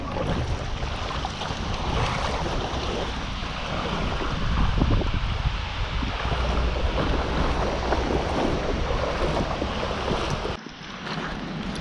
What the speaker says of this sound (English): I was walking through that river.